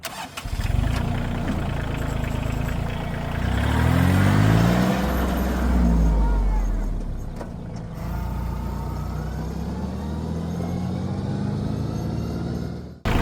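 A Kioti CK/CX-series compact tractor engine revs up hard while accelerating in high gear, its pitch climbing steadily then holding a loud, steady drone close by before dropping off abruptly at the end.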